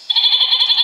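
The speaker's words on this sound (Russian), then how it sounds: "Козленок." A young goat gives one short, high, wavering bleat, close and fairly loud, standing alone in a brief burst.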